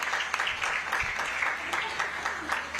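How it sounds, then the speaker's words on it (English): A crowd at the Gathering of Givers 2023 event applauds, a steady patter of many hands clapping together, moderately distant and sustained for the whole moment. "Surely we can give a bigger round of applause to MTN"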